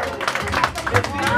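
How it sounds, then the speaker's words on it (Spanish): Applause and clapping from guests at a birthday party with mariachi performers, a dense patter of hand claps filling the space, with a voice briefly mixed in. "Y el aplauso bien bonito para ella que se escuche,"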